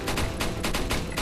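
Rapid gunfire crackles in the Resident Evil 4 video game during a Pro Mode combat section, a fast string of shots in steady rhythm heard up close, with no talk.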